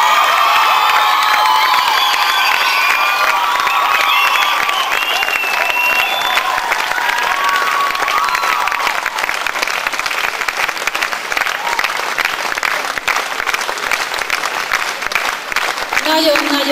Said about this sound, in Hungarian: Nagyon-nagyon szépen köszönjük még egyszer az elismerést, amit önök a tapsukkal fejeznek ki.